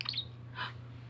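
A pet budgie gives a couple of short, bright chirps close by, one at the start and another moments later, over a steady low indoor hum.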